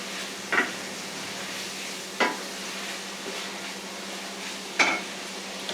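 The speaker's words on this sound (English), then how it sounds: "Give this a little stirry stir." Cheese steak meat and onions frying in a pan under a steady, soft sizzle, with three distinct scrapes of a utensil stirring against the pan spaced a couple of seconds apart.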